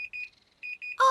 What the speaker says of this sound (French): c'est la sonnerie du four